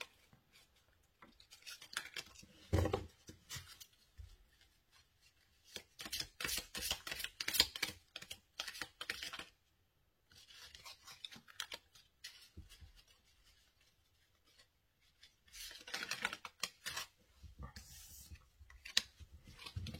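Cards from an oracle deck being shuffled and drawn, with bursts of papery riffling and flicking that come and go, faint and close, separated by quiet gaps.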